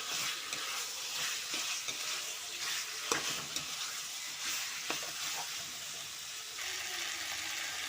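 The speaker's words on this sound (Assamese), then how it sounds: "দুই মিনিটমান এনেকৈ লাৰিয়ে থাকিব। মছলাখিনি যাতে চাৰিওফালে লাগি যায় মাংসবিলাকৰ ভিতৰত।" Chicken curry with spices is stirred in a frying pan, with a steady close sizzle and fry under repeated scraping of the spoon against the pan, and no one talking.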